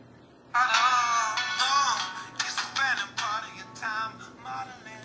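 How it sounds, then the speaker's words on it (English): A phone's music app plays a tune through the handset's small speaker: a bright, tonal melody of short phrases, fairly clear and close. "So we'll get some music playing."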